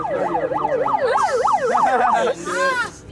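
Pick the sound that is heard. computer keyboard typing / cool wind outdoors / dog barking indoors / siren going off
siren going off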